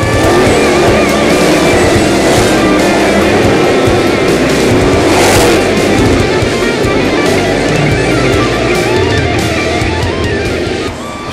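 Dirt track race cars roar around the oval at Valley Speedway during a night race, a loud, dense wall of engine noise with overlapping revving and occasional tire squeal, no voices.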